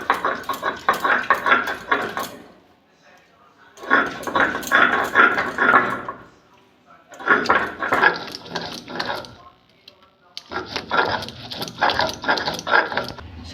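Pointed gourd being ground by hand on a grinding stone, coming in four long rhythmic bursts of scraping and rubbing, each a few seconds long and separated by short pauses, close and fairly loud.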